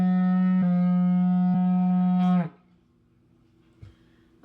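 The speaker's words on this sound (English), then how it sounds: "blowing on the didgeridoo and then just breathing in really deeply through my nose" A didgeridoo drones steadily and loudly at close range for about two and a half seconds, its low buzzing tone rich in overtones, then stops and gives way to quiet breathing with a faint click.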